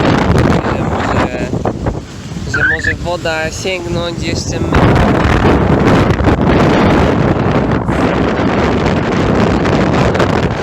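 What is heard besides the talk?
strong wind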